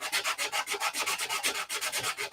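Hand sanding along curved wooden contours without a block, a fast, even back-and-forth rasp of abrasive on wood, close and loud, with no talking.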